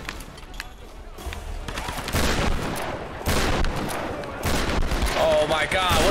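Rapid in-game gunfire from Tomb Raider 2013, with loud, dense bursts of shots running throughout and someone talking over the shooting.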